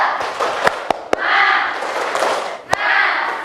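Children in a classroom lesson perform the rhythmic tepuk semangat routine, with sharp, irregular hand claps punctuating loud group chanting, close and energetic.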